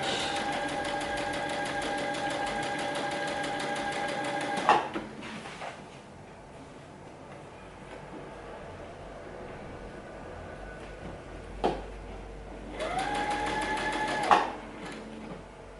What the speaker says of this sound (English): making sure my fabrics are even as I stitch.